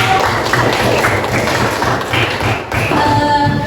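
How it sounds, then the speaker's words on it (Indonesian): Hands clapping in a classroom during a history lesson, a brief burst of scattered applause from students, fairly close and loud, rising and dipping briefly before continuing. "boleh kasih tepuk tangan dong"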